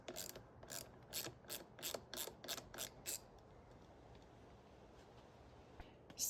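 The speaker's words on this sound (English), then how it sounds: "get a 10 socket and here's the self-locking nut. Let's remove this." A 10 mm socket ratchet loosens the self-locking nut on the brake lever of a Ducati Monster 937, making about ten quick, close, crisp clicks, then near silence.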